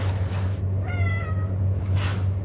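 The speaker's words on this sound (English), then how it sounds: "Why did you bring that stupid cat?" A single cat gives a clear, close meow lasting about a second over a low steady hum.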